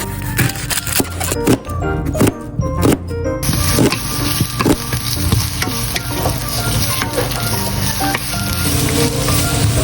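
Onion sautés in hot oil in a pan, a loud, close sizzle with clacking spatula strokes and stirring scrapes that settle into a steady frying hiss.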